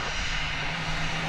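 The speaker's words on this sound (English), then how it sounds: "It's an Airbus A319 going to Salt Lake City." Delta Airbus A319 airliner at DFW Airport, heading to Salt Lake City: a steady, loud engine roar with a low hum, continuous and unchanging through the short stretch, with a voice faintly present underneath.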